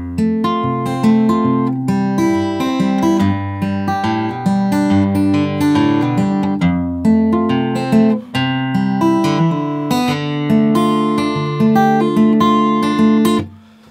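An acoustic guitar plays the chorus of a song in a steady, rhythmic strummed and picked pattern that runs continuously for several bars, loud and close, with no voice.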